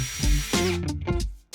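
A power drill whirs close by in short bursts, its motor pitch rising and falling as it bores into wood.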